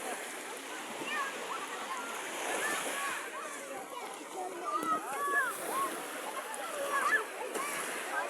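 Sea waves wash steadily on a beach in summer, a continuous close hiss of surf and splashing with faint voices and scattered high sounds over it.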